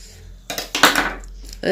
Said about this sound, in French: Je vais prendre la tomate. Je vais la couper en deux.